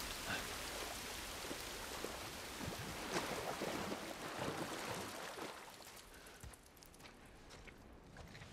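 Steady rain in the video game The Last of Us Part 1 makes a dense, continuous hiss with scattered droplet patters. It thins out slightly near the end, with no talking.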